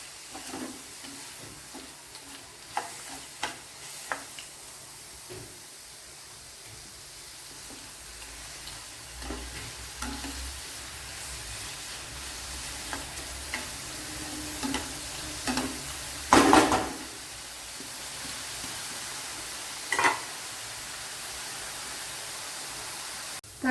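Onions sauté quietly in a pan for an egg roast, a soft sizzle broken by intermittent scrapes and taps of a stirring spoon, with a louder clatter near the middle and no speech.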